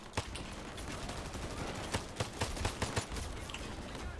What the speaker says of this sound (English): there's a guy shooting me in front of it